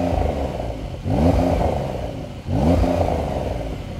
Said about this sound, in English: this is what the new car sounds like